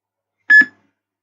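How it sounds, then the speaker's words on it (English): A kitchen-style timer gives two quick electronic beeps, sharp and close, in an otherwise silent room. "That's my timer."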